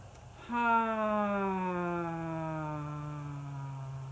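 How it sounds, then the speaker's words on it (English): An emergency vehicle siren, from an ambulance or fire truck, starts abruptly as a loud, tonal wail, then holds and slowly falls in pitch while fading slightly. No voices are heard. "love and light to that siren, whatever that was, ambulance, fire truck"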